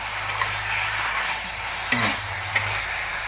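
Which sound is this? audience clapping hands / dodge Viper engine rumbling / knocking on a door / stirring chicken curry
stirring chicken curry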